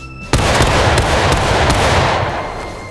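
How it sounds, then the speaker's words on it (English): A rank firing a musket volley in the video game War of Rights: a sharp, loud crack of many shots at once, followed by a few scattered later shots and a rolling echo that slowly fades. "That's a woeful volley if I ever heard one."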